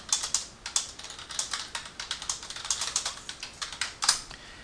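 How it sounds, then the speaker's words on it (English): Rapid, quiet typing on a computer keyboard while entering chat text in MapTool, a steady run of close, crisp key clicks with small pauses and a few sharper taps. "Now this is the player window, so I'm going to type something."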